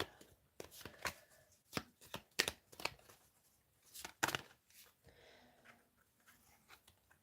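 Cards being shuffled and handled for a Native American medicine wheel reading, heard as a string of crisp, close riffling and snapping bursts with short quiet gaps between them and no voices.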